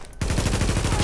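Bursts of sniper gunfire in the video game The Division, a fast string of loud, close cracks that begins abruptly after a brief quiet moment.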